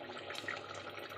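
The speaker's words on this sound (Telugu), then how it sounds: "కొంచెం మిక్సీ కూడా కడిగేసి వాటర్ వేసేస్తున్నాను." Water is poured into a mixer grinder jar to rinse it in a home kitchen. A faint, brief splash and trickle is heard with no talking.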